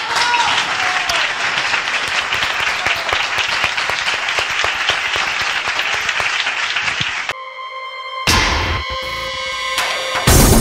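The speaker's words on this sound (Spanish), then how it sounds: "Fuerte el aplauso" Audience applause at a Spanish-language event, loud and steady for about seven seconds before cutting off; a brief pause then gives way to a bright musical jingle.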